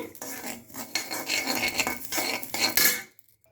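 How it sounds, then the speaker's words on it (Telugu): Sesame seeds dry-roasting in a pan, with irregular scraping and clinking of a spoon against the pan in uneven bursts and brief gaps, ending in near silence. "ఇలా పేలుతూ ఉన్నాయి ఈ నువ్వులు"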